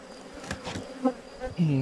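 Honeybees at a hive, a faint buzzing hum with individual bees droning past, close and soft, one louder buzz rising near the end.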